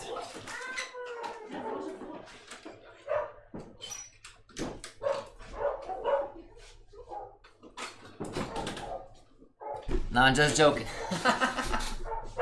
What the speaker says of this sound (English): The dogs are getting crazy.